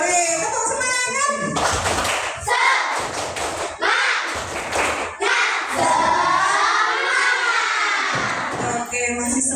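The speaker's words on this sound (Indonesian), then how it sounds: "Oke, tepuk semangat." Children in a classroom perform the Indonesian 'tepuk semangat' spirit clap, sharp rhythmic claps and thumps in bursts alternating with chanted voices, loud and close.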